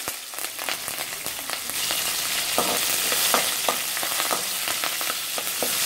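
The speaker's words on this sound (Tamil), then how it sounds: "இதில் வந்து கடுகு, உளுத்தம்பருப்பு, கடலைப்பருப்பு இதை ஆட் பண்ணுறோம்." Mustard seeds, urad dal and chana dal fry in hot oil for a restaurant-style poori masala, giving a continuous close sizzle with scattered crackles and pops that grows slightly denser as it goes, with no talking.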